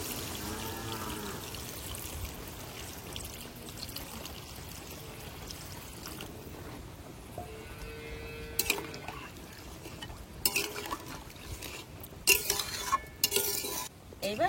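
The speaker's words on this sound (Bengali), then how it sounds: "এবার জল দিয়ে দেবো।" Water poured into a pan of hilsa fish curry with aubergine, then stirred, a soft liquid swish followed by sharper intermittent scrapes and clinks toward the end, fairly quiet and near.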